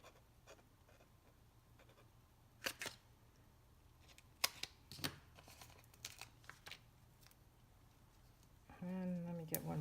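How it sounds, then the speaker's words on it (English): Scissors cutting a strip of paper during a watercolor card-making craft session, several sharp snips and paper rustles scattered through a quiet room, followed by someone talking at the end. "cut a strip here"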